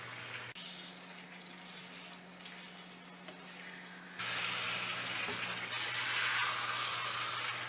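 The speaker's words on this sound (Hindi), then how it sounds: "मटन को हमने 6 से 7 मिनट तक भून लेना है।" Mutton frying in cooking oil in a pot, a steady soft sizzle that gets louder and brighter partway through, with no voices.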